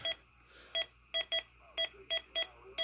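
Short electronic roger beeps from an Anytone AT-6666 CB radio, about nine clipped tonal bursts in an uneven sequence, fairly faint and alone against a low background hum.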